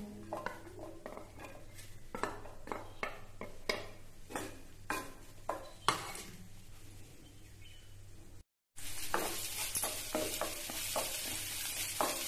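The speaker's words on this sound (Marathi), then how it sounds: "फोडणीसाठी आपण कांदा टाकून घेऊया." Onion frying in two big spoons of hot oil for a tempering, giving a soft continuous sizzle broken by sharp scrapes and taps of a spoon stirring in the pan. After a brief gap the sizzle returns louder.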